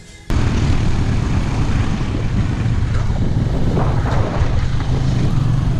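A motorbike ridden at about 80 miles an hour on a rough mountain road of the Ha Giang Loop in Vietnam, a steady loud roar swamped by heavy wind buffeting on the microphone, starting abruptly and continuous throughout.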